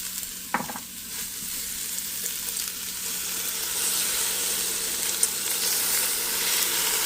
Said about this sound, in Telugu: ఇది బాగా మిక్స్ చేయాలి కలిపేద్దాం